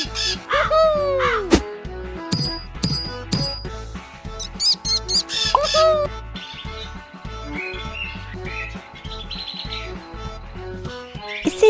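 Cartoonish crows caw repeatedly in a Hippo Wizard of Oz children's drawing game, bright calls and chirps layered over busy, continuous game music with sound effects.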